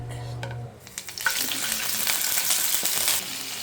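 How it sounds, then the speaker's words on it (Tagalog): Pork hits hot oil in a pan (kawali) after a few light clatters, then a loud, dense sizzle of frying continues steadily for a few seconds without talk. "Lalagyan na natin ng mantika. Ilagay natin ang ating pork."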